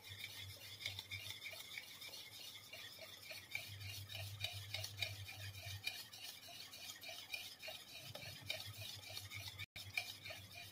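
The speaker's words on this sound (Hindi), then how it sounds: "अच्छे से दही और बनाना को मैश करेंगे" Banana and curd (yogurt) being mashed together in a bowl for an eggless whole wheat banana cake, giving a steady, close run of soft wet squelching and scraping strokes against the bowl, with no talk.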